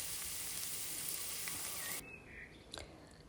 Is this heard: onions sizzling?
yes